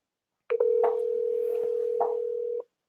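A phone call's ringback tone plays as a single steady, unbroken tone lasting about two seconds, clear and alone with no talking.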